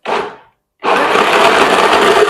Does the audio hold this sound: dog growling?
no